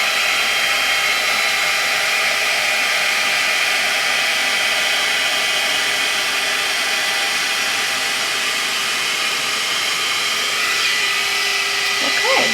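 A loud, steady blowing roar of a handheld hair dryer during a blowout on curly hair runs unbroken for the whole stretch, close up and constant, with a faint shift near the end.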